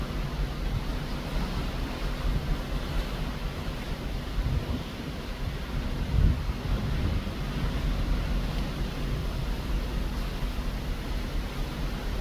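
Steady broadband rush of heavy rain and wind from a Pacific rain squall hitting a cruise ship balcony, loud and continuous, with a low rumbling gust swelling briefly midway.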